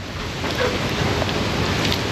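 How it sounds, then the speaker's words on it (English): Heavy rain in St. Thomas pours down as a loud, dense, continuous hiss with a windy rush, steady and unbroken for the whole moment. "It's raining again."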